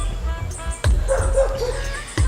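A dog barks a few times nearby in Jamaica, sharp yips spaced irregularly, with some birdsong and faint background sounds between the barks.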